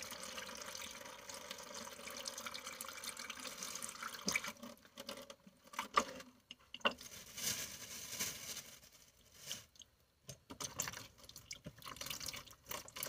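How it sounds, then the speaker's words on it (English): Seashells being washed out in a bucket of water to catch the sand, with close splashing, trickling and dripping that comes in irregular bursts, loud at first and then in scattered short sloshes. "Typically, I wash these out outside because of all the sand. So that's why I'm doing it in this bucket, to catch all the sand."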